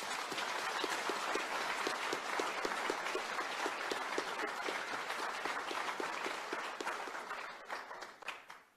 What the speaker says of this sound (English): So please join me in thanking them in a round of very warm applause.